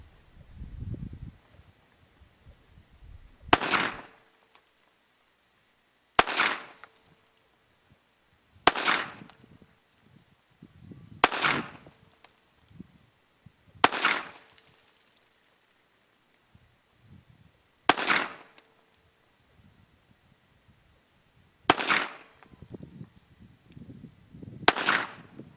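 Sig Sauer P365 semi-automatic pistol firing .380 ACP rounds, seven sharp single shots spaced a few seconds apart with quiet gaps and faint handling noise between them.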